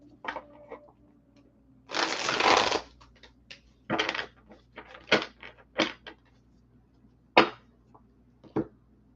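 Tarot cards being shuffled on a table, a long riffling burst followed by several short separate shuffling and tapping bursts, close and fairly quiet with no talk.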